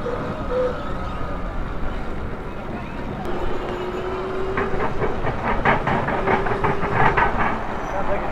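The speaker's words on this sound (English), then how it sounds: "Sounds like a train is going on." A train rumbles past with a low, steady roar and a run of rhythmic clacking toward the end, while people talk faintly over it.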